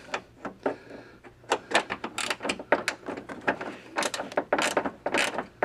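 Bolts being tightened on an EVAP vapor canister bracket of a 1992–1994 Crown Victoria or Grand Marquis, a quick series of close metallic ratchet clicks and clunks in uneven bursts, no talk.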